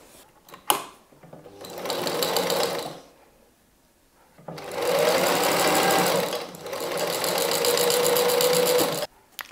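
A sewing machine runs in three loud bursts as it sews the lid of a fabric pumpkin basket, with short pauses and a small click between runs, close and without talk.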